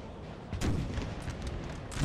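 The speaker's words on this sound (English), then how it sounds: "Okay, there's the artillery." Distant artillery booms roll across a Napoleonic field battle in Napoleon: Total War, several muffled thuds layered over a steady rumbling din of massed troops.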